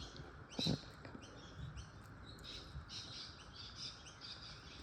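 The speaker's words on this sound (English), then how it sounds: "you enjoy the birds while I muse away" In the early morning, small birds chirp and tweet faintly in the distance in short, scattered bursts. A soft bump and light rustling come from someone stitching embroidery nearby.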